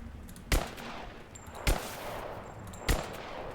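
Gunfire from an Uzi in the video game Rise of the Tomb Raider: three loud, separate sharp blasts about a second apart, each with a short ringing tail, over steady game background noise, with no talk.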